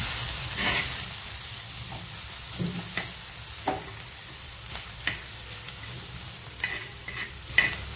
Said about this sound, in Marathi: कोथिंबीर पण कांद्यासोबत हलकीशी फ्राय करून घ्यायची आहे।